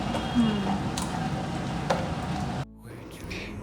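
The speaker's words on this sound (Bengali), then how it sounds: "আজকে টেস্টি টেস্টি ইলিশ মাছ রান্না হচ্ছে বাড়িতে" Hilsa fish frying in a pan at home, a steady crackling sizzle with faint background voices, cut off abruptly near the end.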